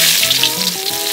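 Minced garlic and shallots with julienned ginger stir-frying in a small pan, a loud, close, continuous sizzle with no talking.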